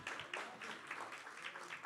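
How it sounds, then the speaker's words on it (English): An audience applauds sponsors at an event, a steady wash of many hands clapping at moderate volume for about two seconds, with no speech over it. "So everybody just clap if you're grateful for the sponsors"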